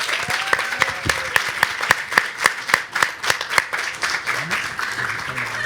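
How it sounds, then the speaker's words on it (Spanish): An audience at a photography book launch claps in steady, rhythmic applause that slowly thins out, with a voice talking underneath. "Despedimos entonces a nuestros expositores con un gran aplauso por esta emotiva presentación"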